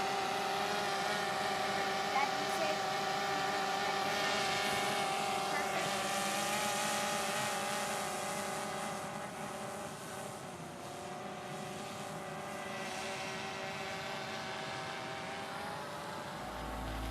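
A DJI Phantom 3 Advanced quadcopter drone in flight, a steady close buzzing propeller whine with layered tonal hum, easing slightly in loudness midway, with a voice talking over it.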